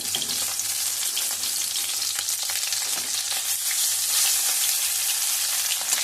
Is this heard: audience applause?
no